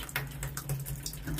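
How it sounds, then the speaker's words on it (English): Water drains from the pipe of a Vaillant boiler into a mop bucket, a close, splashy trickle with uneven spurts over a low steady hum. "just let it empty out into this quite conveniently placed mop bucket"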